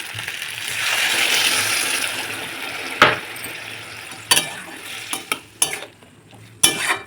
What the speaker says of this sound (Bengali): এটাকে একটু নাড়াচাড়া করে নেবো আমরা এবার একটু জল দেবো আমি